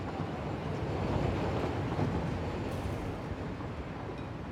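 A train moving in the factory-building video game Satisfactory gives a steady, unbroken rumbling drone that holds at a constant loudness throughout.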